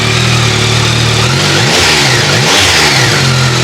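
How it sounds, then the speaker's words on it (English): A brand-new 2025 Yamaha R9 motorcycle engine with zero miles revs close and loud, idling steadily, then rising in a couple of quick throttle blips before settling back. "Give it a rev?"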